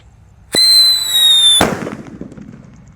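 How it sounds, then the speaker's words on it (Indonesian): A Black Buster firecracker is set off, a sharp crack followed by about a second of loud hissing whistle, then a bang that decays into crackling. "Selanjutnya yang kita nyalakan di sini ada mercon black buster."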